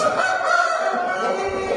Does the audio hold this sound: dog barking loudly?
no